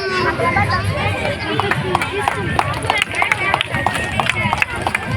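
An audience at a solo stage acting performance by a school student claps in a brisk, rhythmic patter, with crowd murmur and chatter mixed underneath.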